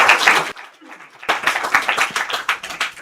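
An audience at a county commissioners meeting breaks into applause, dense clapping that stops briefly, then resumes, with voices mixed in.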